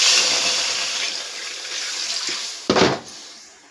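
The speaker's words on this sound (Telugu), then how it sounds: "వాటర్ వేసుకుందాం ఫ్రెండ్స్." Water is poured into a kadai (wok) on a lit stove while making egg noodles, a steady rushing pour that fills the whole stretch and swells into a brief louder splash near the end.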